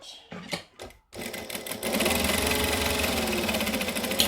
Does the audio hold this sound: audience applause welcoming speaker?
no